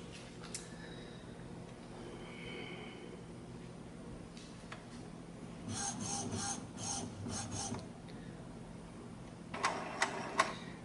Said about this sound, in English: Okay, the printer is charging ink.